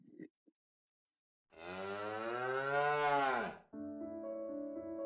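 Helen, a blind cow, gives a single long, loud moo lasting about two seconds, close to the listener, after a few faint sounds, followed by soft sustained music.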